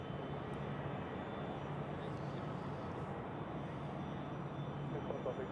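An EasyJet airliner rumbles at Zurich Airport on a crosswind day, a steady distant jet roar with a faint voice talking over it.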